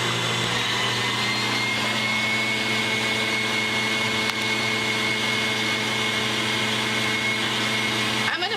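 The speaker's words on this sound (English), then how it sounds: "we're going to turn up our egg whites and start beating those on high" An electric mixer beats egg whites on high speed for a stovetop chocolate cream pie, a loud, continuous motor whine that holds steady throughout.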